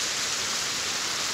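Heavy rain mixed with hail pours down over Kathmandu city, a steady, dense, loud hiss with no letup and no voices.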